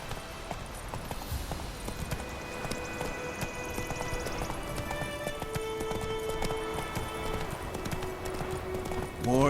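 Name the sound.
horse hooves galloping in video game The Witcher 3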